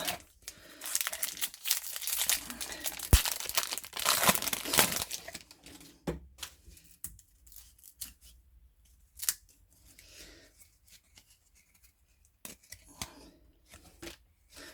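Foil packs of 1999-2000 Upper Deck hockey cards are torn and crinkled open nearby, a burst of loud crinkling and tearing early on, then sparser rustles and card shuffles.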